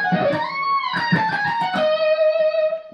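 Electric guitar lead playing the opening of a song's solo, with a quick run of distorted picked notes that settles into a long sustained bent note, loud and upfront.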